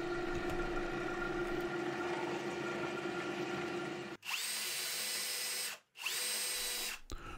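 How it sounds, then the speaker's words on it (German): A power drill pre-drilling screw holes in wood for a nest box, whining steadily in two short bursts with a brief pause between them, after a stretch of lower background noise. "Die Schraubenlöcher immer schön vorbohren"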